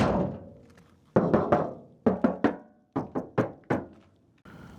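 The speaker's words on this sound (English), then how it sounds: "You can see the sliding doors are particularly large on this. They make quite a lot of noise. That's kind of noisy and rattly." Large sliding doors on a van clunk and rattle in quick bursts of sharp knocks, grouped in twos and threes with short pauses between, close and alone without talk.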